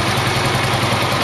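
A Yamaha Mio motorcycle engine idles close by with an aftermarket regulator fitted, a steady, dense, loud rumble that never changes pace.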